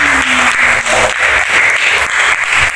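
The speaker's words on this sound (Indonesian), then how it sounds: "Hai, tepuk tangan." A primary-school class of children claps together during a Sundanese singing lesson, giving a brief burst of loud, steady applause with no talking.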